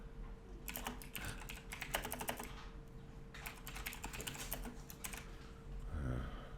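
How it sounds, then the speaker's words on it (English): Rapid clatter of keys on a loud computer keyboard during a live stream, bursts of fast typing separated by short pauses, close and fairly prominent over a steady background hum. "Pardon my loud keyboard."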